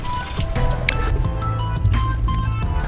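Rice being washed by hand in water for a second rinse, with continuous close squishing, sloshing and dripping as the grains are rubbed and stirred, with no talking.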